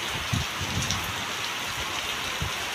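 Heavy rain pours down in a village, a dense, steady hiss of drops with a few louder thumps of water hitting surfaces nearby.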